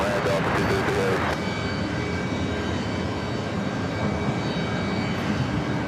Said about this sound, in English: Next takeoff is Delta Airlines Flight 99 at 64.